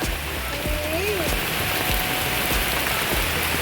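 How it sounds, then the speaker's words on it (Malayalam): Heavy rain pours steadily and loudly, a dense continuous hiss of drops drumming on a surface throughout. "ഭയങ്കര മഴ"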